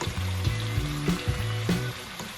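Tomatoes frying in a pan for Nepali chicken momo filling, a soft sizzle with scraping stir strokes, while a low tonal hum runs underneath throughout.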